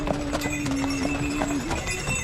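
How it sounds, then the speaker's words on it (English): Horses pulling a carriage on a festive nighttime ride at a historical village in Corunna, Michigan, their hooves clip-clopping in a steady rhythm close by, with a faint tonal whine in the background. "Horse-drawn carriage ride."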